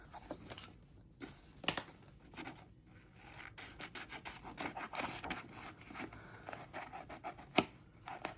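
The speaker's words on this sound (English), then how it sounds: "and then you could grab some scissors" Scissors cutting through a planner sticker sheet in a quiet room, a run of soft rasping snips and scrapes with a couple of sharper clicks.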